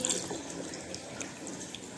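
Tap water running steadily into a sink while a face is rinsed after a face scrub, a close continuous splashing flow with small drips.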